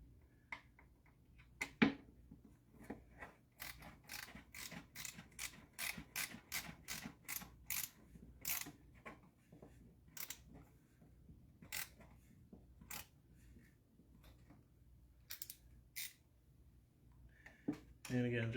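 Screwdriver turned by hand to tighten screws on a Lymow mower: long runs of quick, close ratcheting clicks in bursts with short gaps. A voice speaks now and then.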